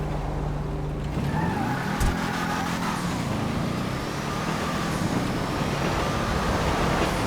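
A Declasse Impaler LX car engine in GTA 5 Online revving and shifting as it drives, a steady mechanical drone with rising pitch changes and a bump, close and continuous.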